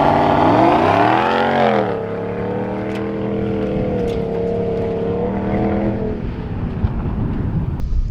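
A Hemi V8 in a 2022 Ram 1500 Rebel GT pickup revs hard off-road, climbing loudly to a high sweep then dropping into a steady, rumbling idle-level drone, close and alone.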